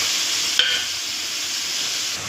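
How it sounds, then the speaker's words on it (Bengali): Fish poured into boiling water with green chili, ginger paste and cumin paste, making a close, steady hissing bubble with a brief splash and tinkle as it goes in. "জলটা ফুটে এসেছে, এবার মাছটা ঢেলে দিলাম।"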